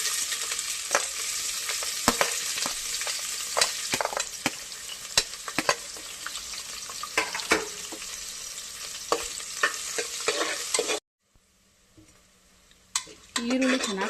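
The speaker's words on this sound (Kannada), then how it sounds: "ಈರುಳ್ಳಿ ಚೆನ್ನಾಗಿ ಫ್ರೈ ಆಗಿದೆ." Chopped onion fries in a pan for soya chunks pulao, a bright steady sizzle broken by frequent scraping stirs of a spatula, close by, dropping to near silence near the end before a few final clinks.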